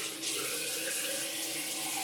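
Tap water runs steadily into a sink, a continuous close hiss and splash with no talking.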